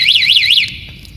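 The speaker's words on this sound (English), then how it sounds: "This alarm is used when you can't find your parked vehicle, when it is with lots of other vehicles." Security alarm on a Honda CB Unicorn motorcycle, a loud, close electronic warble sweeping rapidly up and down in repeated cycles for about half a second, then cutting off to a quieter steady tone and near silence.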